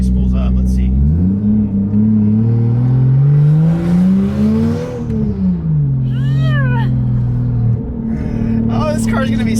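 A turbocharged Toyota Supra, converted from naturally aspirated and fitted with a cheap eBay turbo and no blow-off valve, revs up close and loud. The engine note climbs, peaks, then drops back, while excited voices whoop over it.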